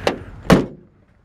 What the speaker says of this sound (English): I didn't shut this door all the way.